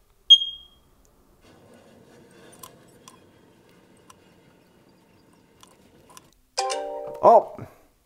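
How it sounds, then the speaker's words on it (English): A short high beep, then quiet scraping and small clicks, ending with a loud, harsh electronic alarm from an Ecobee smoke alarm detector, set off by a smoke alarm tester, blaring briefly up close. "the next thing I need to test out is the smoke alarm detector"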